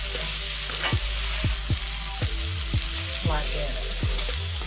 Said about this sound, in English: I'm going to get this here mixed in into the potatoes just to bring back a little bit of the sweetness